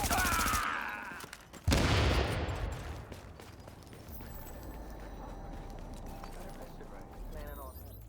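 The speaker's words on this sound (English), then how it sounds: "I'm throwing a grenade" A thrown grenade detonating in a shooter video game, a sudden loud close blast after a brief quieter stretch, followed by a decaying rumble and scattered debris, with game sounds and faint voices around it.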